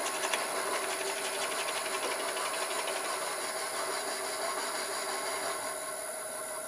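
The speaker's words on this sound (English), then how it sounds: "I'm gonna go ahead and drill my depth hole." A 2-inch Forstner bit bores a depth hole, giving a steady, continuous high-pitched whirring drone with a constant whine that holds evenly throughout, close and without talk.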